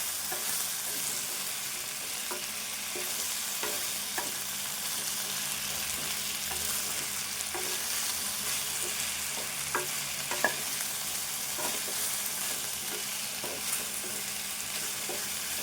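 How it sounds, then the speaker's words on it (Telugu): Okra frying on a low flame, a continuous soft sizzle with occasional light clicks and scrapes of stirring, steady and close without any talking. "బెండకాయను ఫ్రై చేసుకోవాలి ఇప్పుడు కొంచెం స్టవ్ సిమ్లో పెట్టుకొని ఫ్రై చేయాలి"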